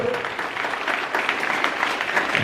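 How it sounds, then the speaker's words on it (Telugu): An audience at a school Christmas and Sankranti celebration in Madanapalle breaks into a short burst of loud, dense applause, with many hands clapping together. "ఒకసారి గట్టిగా చప్పట్లు కొట్టాలని"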